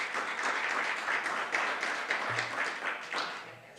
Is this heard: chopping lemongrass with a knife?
no